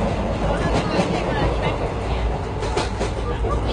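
The Golden Chariot luxury train running on its rails, a steady rumble with clickety-clack under the bar car's ambience, where people are talking.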